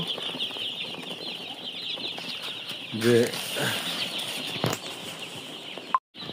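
Many broiler chicks cheep continuously in a high, dense chorus in a poultry shed, their water container dry, with a short spoken word and a brief rustle partway through.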